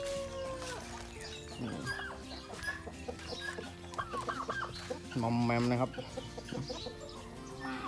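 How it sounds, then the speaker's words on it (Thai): A crossbred fighting rooster and other farm chickens cluck on a Thai farm, bursts of nearby clucking and calls coming repeatedly, with someone speaking briefly over them. "ตัวนี้เป็นไก่ชนนะครับ นี่ไก่ชนสายดีนะครับ"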